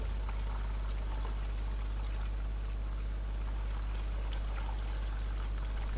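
Bottled water being poured into a container for a homemade onion, garlic and chili repellent, a steady continuous pouring rush close by with no speech.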